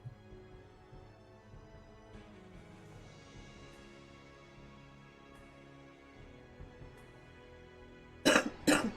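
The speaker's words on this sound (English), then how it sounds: "I've had a real bad cough the past few days" A person with a bad cough lets out a couple of sharp coughs near the end, after a stretch of quiet, low background hum.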